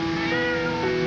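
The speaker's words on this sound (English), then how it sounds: "It's the tale of a cat stuck in a tree." Cat stuck high up a tall fir tree, one drawn-out plaintive meow, clear and fairly loud, alone without talk.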